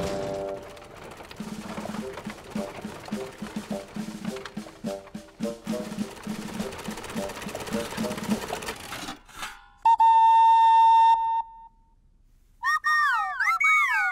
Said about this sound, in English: It's a cleaning machine to keep the planet tidy.